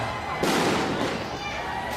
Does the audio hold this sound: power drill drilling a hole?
no